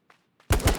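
Gunfire in the video game H1Z1: two faint distant shots, then a loud close burst of rapid automatic fire.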